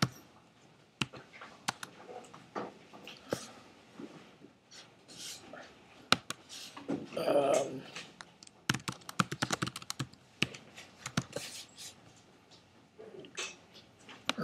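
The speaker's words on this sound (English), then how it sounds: "Anthony, why are we not typing?" Bursts of typing on a computer keyboard during a lecture on Shakespeare's sonnets, irregular clusters of close, crisp key clicks separated by pauses, with a faint breathy sound midway and no speech.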